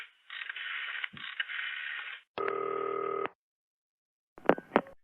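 Rapid telephone dialing tones in short bursts, then a steady buzzing tone and a couple of brief clicks, heard clearly with no voices.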